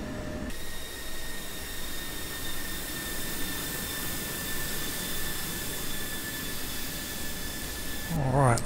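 An F-16 Viper jet engine in the DCS flight simulator, accelerating for takeoff. It roars with a steady, loud whine and broadband rush under faint tonal hums, and a short chirp sounds at the very end.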